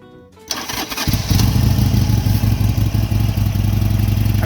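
A motorcycle engine loaded with saddlebags cranks briefly, catches and settles into a loud, close, throbbing idle that keeps pulsing steadily as it warms up, with no talk over it.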